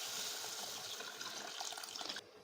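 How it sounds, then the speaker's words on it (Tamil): Tamarind water poured into a pan while making a pepper and shallot curry, giving a steady, close splashing gush that runs on and then cuts off sharply near the end. "இப்போ புளி தண்ணியை உள்ளே சேர்த்துக்கோங்க."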